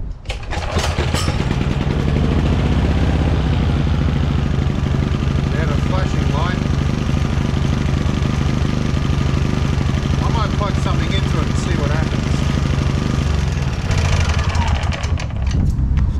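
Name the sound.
XTM 22000W generator engine running after pull start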